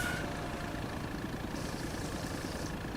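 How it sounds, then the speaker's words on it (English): A quiet tractor engine in Farming Simulator 25, idling with a low, even hum and faint rhythmic chugging, steady throughout with no talking. "It's a quiet tractor."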